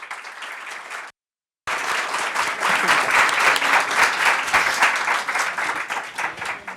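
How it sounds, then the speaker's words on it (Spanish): Audience applause welcoming guests at a book presentation at a book fair, a dense, sustained clapping from a large crowd after a brief pause, loud and steady. "un aplauso de bienvenida para ellas"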